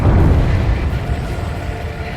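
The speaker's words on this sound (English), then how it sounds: "A huge explosion just went off underwater." A huge underwater explosion in the combat flight game Ace Combat 7, heard as a loud, deep, sustained rumbling boom that slowly fades, alone without talk.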